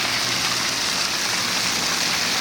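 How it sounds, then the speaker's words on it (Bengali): A waterfall at night heard from close by, a constant broadband rush of falling water with no breaks or other sounds. "দেখেন কত সুন্দর একটি ঝর্ণা।"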